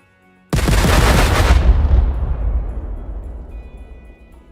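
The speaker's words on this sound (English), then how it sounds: "here's your tier 3 blow up kaboom" A tier 3 blast goes off in the video game Gold Mining Simulator: one sudden, loud, close boom that rumbles and then slowly fades over several seconds, with no voices.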